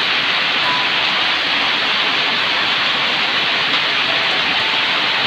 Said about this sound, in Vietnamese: Mưa to nhá.